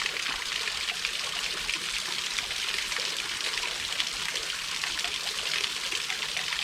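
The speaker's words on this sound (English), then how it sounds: "can hear a bit of water coming off a rock" Steady, faint trickle of water running off rock near a waterfall, a continuous soft splashing hiss with no voices.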